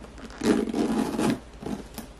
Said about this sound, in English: it's more of a struggle to move the zipper around